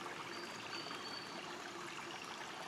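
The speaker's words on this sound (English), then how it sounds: "can hear the water running through the stream." Water running steadily through Hawkshole Creek beneath a bridge, a continuous close trickle and babble of a small stream with no break, heard alone with no talk.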